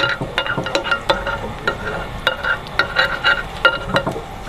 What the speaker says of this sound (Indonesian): Ini biar nggak lengket aja dikocek begini nih.